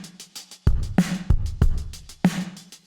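GarageBand drum kit with heavy room reverb, a steady pattern of punchy kick and snare hits with tapping hi-hats, each hit trailing off into a roomy, spacious wash.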